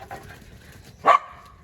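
In a garden where a squirrel is about, a dog gives a single short bark, fairly faint and a little distant, against quiet outdoor background.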